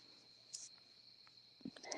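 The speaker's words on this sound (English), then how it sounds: "You can hear the crickets." Crickets chirp outdoors at night, a faint, steady high-pitched trill running continuously, with a few soft nearby clicks and rustles in an otherwise quiet setting.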